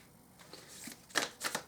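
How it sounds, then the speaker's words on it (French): A card drawn from a Crazy Sexy Love Note oracle deck gives soft papery shuffling and sliding, building into a few crisp flicks near the end, close and quiet with no talking. "On va tirer une petite carte du Crazy Sexy Love Note."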